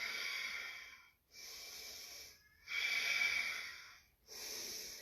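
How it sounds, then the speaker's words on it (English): Deep, slow breaths during a morning yoga flow, heard as three long airy exhalations separated by brief pauses, close and steady with no talk. "Deep breaths."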